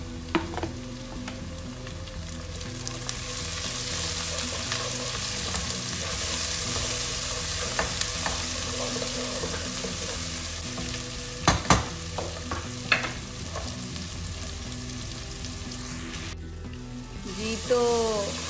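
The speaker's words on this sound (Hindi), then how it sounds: "तो प्याज हमारे लाइट ब्राउन हो गए हैं, हमें इन्हें ज़्यादा ब्राउन नहीं करना था। अब हम इनमें ऐड करेंगे टमाटर।" Tomatoes go into a pan of lightly browned frying onions and sizzle steadily, with a few sharp clinks and scrapes from stirring against the pan.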